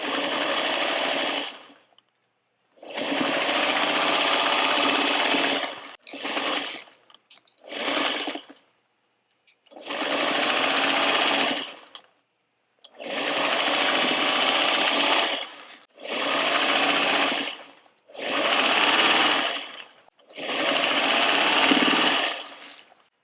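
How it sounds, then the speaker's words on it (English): A sewing machine runs in a series of stitching bursts, some long and some short, separated by brief pauses, close and fairly loud, sewing a quarter-inch seam on a fabric trick-or-treat bag. "take this over to my sewing machine and sew with a 1/4 inch"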